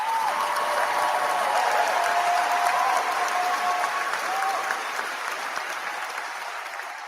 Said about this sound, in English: Sucks hearing that damn applause, doesn't it?